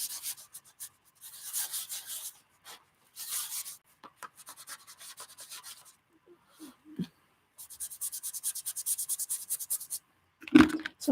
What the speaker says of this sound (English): So I'm kind of really scrubbing it in.